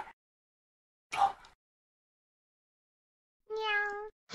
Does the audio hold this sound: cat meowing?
yes